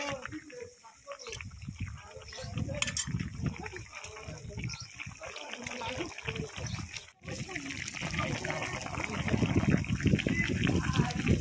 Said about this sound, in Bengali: এবার 1 মিনিট ফুটিয়ে নেবো, নিয়ে নামিয়ে দেবো।